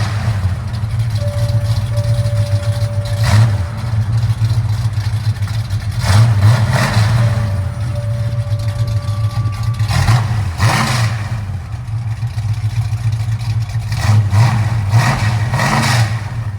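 A 1972 Ford Mustang Mach 1 with a 410 stroker V8, headers and Hooker mufflers idles with a deep burble, then gets blipped through several sharp revs that rise and fall back to idle.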